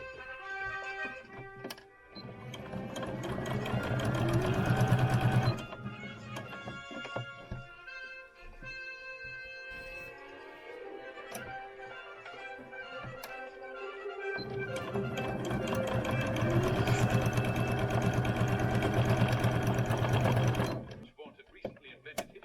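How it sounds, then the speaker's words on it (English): A sewing machine stitching eighteenth-century stays runs in long sustained bursts, with a steady mechanical whir broken by a quiet pause midway before the next run starts up again. "I'm going to find something to watch while I sew these"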